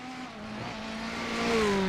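LMP1 prototype race cars battling for the lead, a high engine whine rising as a car approaches and swells in loudness over two seconds, with no voices.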